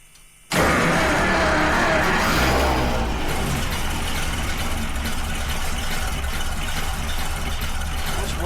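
Engine held at wide open throttle but failing to rev up, a loud, steady labouring roar that starts abruptly and drones on close by without climbing in pitch.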